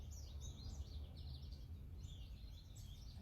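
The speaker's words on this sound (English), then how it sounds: "I hope you're liking all these birds chirping." Birds chirp outdoors, faint high twittering phrases drifting in and out over a steady low rumble of background noise.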